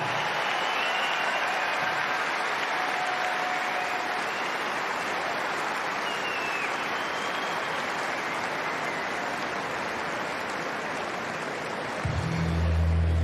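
Huge arena crowd applauding after the Australian Open women's singles final on Rod Laver Arena: a dense, continuous wash of clapping and crowd roar held steady throughout at moderate level.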